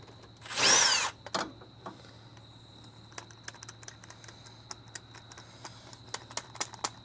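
Power tool with a socket unbolting a vehicle bolt, one loud short burst of whirring rattle, followed by faint clicks and quiet background.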